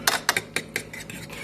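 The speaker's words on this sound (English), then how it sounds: "now we got our eggs mixed up nice and good" Eggs are whisked in a bowl for an omelette, giving a quick run of about eight metallic clicks and scrapes against the bowl, close and fairly loud, with no talking.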